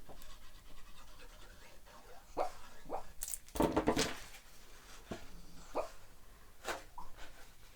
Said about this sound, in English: You might be able to hear my dog, he's dreaming. He's under my desk.